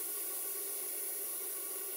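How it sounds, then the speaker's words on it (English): Safety valve blowing off on a vintage model steam boat boiler, a continuous hissing jet of steam, steady and close with no pauses. "I rotate the inner ring in an anti-clockwise position until the safety valve blows off"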